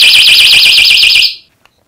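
A Plegium smart pepper spray alarm rated at 130 decibels blares as a piercing, warbling siren at very close range, then cuts off abruptly into silence with one small click.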